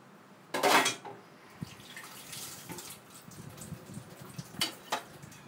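A bowl being put away in a kitchen while a Thai moo yor salad is prepared, with a close clatter of dishware at the start and lighter clinks and scrapes afterward, quiet overall.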